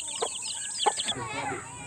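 Shamo chickens give a few soft, brief clucks nearby, and faint background voices and noise carry on after them.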